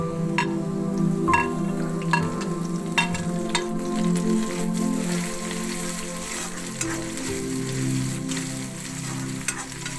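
Finely chopped ginger, garlic and green chillies fry in a pan for arhar dal, giving a continuous close sizzle with occasional crisp spatula ticks and stirring scrapes, and no talk.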